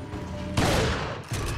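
Shotgun blasts in the video game Resident Evil 4, two sharp booming shots about three quarters of a second apart, the first with a longer ringing tail.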